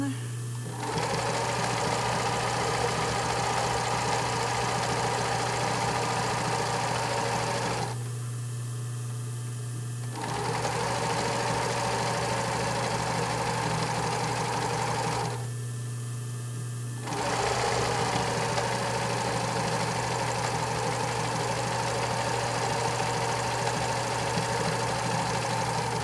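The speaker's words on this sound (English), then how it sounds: "I stitch over about where I started by about 1/2 inch, so I don't have to do any back stitches" A sewing machine runs steadily while stitching a waistband, in three long bursts separated by two short pauses, close and fairly loud with a constant motor hum.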